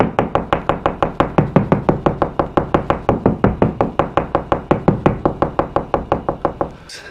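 A knuckle raps steadily on drywall while the wall is searched for a stud behind it, about forty close, sharp, evenly spaced knocks played alone.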